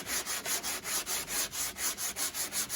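A flat block sands thin wood veneer on a guitar neck in even back-and-forth strokes, a close, quiet, rhythmic rubbing of about a dozen regular passes.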